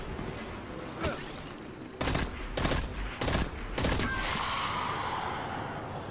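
Rapid gunfire as a whole magazine is emptied with a Forge weapon in Destiny 2, several dense bursts of shots in close succession, loud and near, followed by a fading echo.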